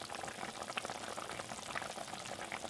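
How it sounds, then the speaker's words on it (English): Elephant apple fish curry gravy bubbling away in an open pot, a steady dense simmer of small popping bubbles that carries on without pause at close range. "Give the gravy a stir and open cook it, and ensure that you reduce the water to half."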